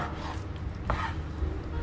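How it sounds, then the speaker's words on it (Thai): Knife slicing chicken breast into thick pieces on a board, a few soft, faint cuts and taps heard alone in a quiet kitchen. "เราก็จะหั่นเนื้อไก่เป็นชิ้นๆนะครับเอาให้หนาหน่อยนะครับ"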